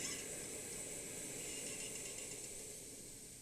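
A repaired 111T multi-fuel stove burns at a low simmer with a steady, faint, even hiss that stays unbroken from start to finish.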